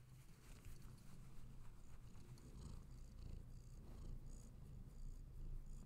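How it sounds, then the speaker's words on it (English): A cat purrs close to the microphone, a soft steady rumbling pulse that continues without pause, with no voices over it. "Bit of purring noise for you if you can hear that."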